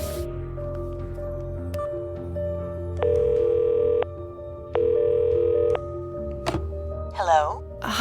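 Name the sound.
telephone dialing and ringing in video game Cognition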